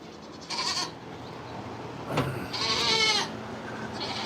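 Goats bleat close by in a farmyard after a storm, several separate calls coming one after another with quiet gaps between them over steady background noise.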